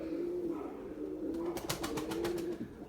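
A white male Bucalı pigeon in solo flight gives a quick run of about seven sharp wing claps in the middle, set over a steady low hum of background noise.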